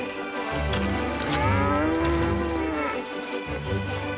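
A young calf, only about twenty days old, moos loudly and close by in a long, drawn-out bellow that wavers in pitch, with a second shorter call near the end.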